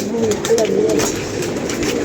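A pigeon coos nearby in soft, low, murmuring calls, with faint background noise throughout.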